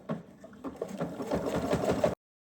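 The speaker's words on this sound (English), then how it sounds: "I'm gonna sew around this side" Sewing machine stitching along the side of a fabric gift basket, a steady close whirring run of needle strokes lasting about two seconds before stopping abruptly.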